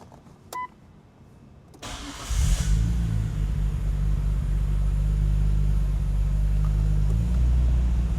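A brand-new Nissan Skyline R34 GT-R CRS built by the Omori Factory with Nismo parts cranks over and fires up, settling into a loud, steady, throaty idle rumble after a brief click.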